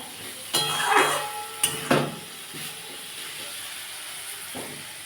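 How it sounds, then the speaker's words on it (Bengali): Ground spices and cumin sautéing in oil in a pan for a spinach dish, with a spoon scraping and stirring in a few loud bursts over a soft steady sizzle that fades to a quiet hiss. "ভালো করে এটা একটু কষিয়ে নিতে হবে যতটা না মশলা থেকে তেলটা বেরোয়"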